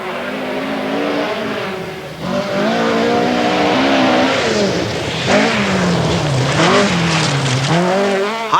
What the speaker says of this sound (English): Blomqvist is powering on in the turbocharged Quattro.